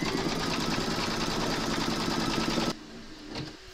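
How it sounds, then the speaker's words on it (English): An embroidery machine stitches the outline of a poppy window pane tote bag, a steady dense mechanical buzz and whirr running loud and close, then cutting off abruptly near the end and leaving a quiet room. "Pop your hoop into your machine and stitch round number two to secure it."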